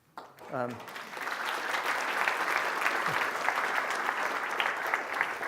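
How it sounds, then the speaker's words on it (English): A large indoor crowd applauding steadily and continuously at a talk event, dense and sustained clapping from start to finish, with a brief voice at the very beginning. "All you have to do is breathe, and they clap for you."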